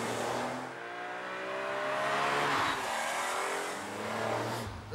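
A BMW Z4M roadster's 340 bhp straight six engine pulls hard with a steady rising and falling drone as it accelerates along an Alpine road, sustained and moderately loud with no voices.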